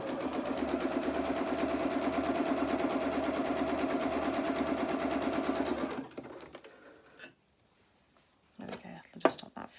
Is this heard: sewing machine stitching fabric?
yes